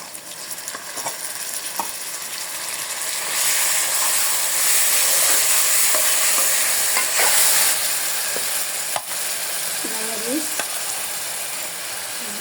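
Browned onions with added spices sizzle and fry in a pan for a coconut-paste country chicken curry, a steady loud hiss with occasional stirring scrapes and clinks, no talking.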